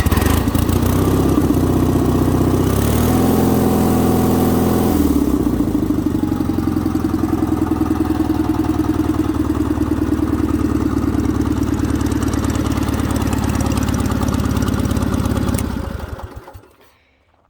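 A restored 1977 Sears 16/6 lawn tractor engine runs steadily and loud at close range, revving up briefly early on, then settling into a sustained mid-pitched rumble before cutting off near the end.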